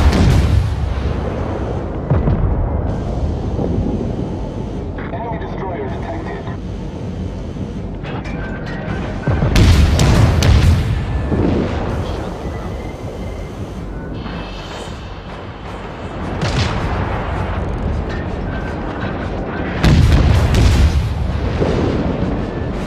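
Naval guns fire in World of Warships, heavy booming salvos rolling out in bursts every several seconds, with rumbling decay and ambient battle noise between the loud blasts.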